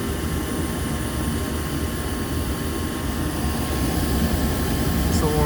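Natural gas furnace burner firing during a limit switch test, a steady broadband roar with a low rumble that holds evenly throughout at close range.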